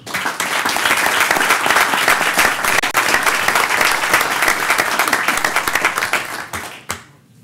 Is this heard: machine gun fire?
no